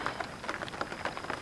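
Rain falls steadily at a forest campsite at night, a soft continuous patter with scattered drop hits and no voices.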